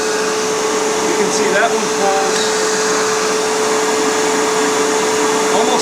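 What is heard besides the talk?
Riccar vacuum cleaner running, suction test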